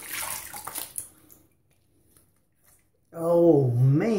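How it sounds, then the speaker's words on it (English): Tap water runs and splashes briefly while someone rinses off after a straight razor shave with a Parker SRB, fading out before a voice speaks up close. "Okay, let's get that washed off."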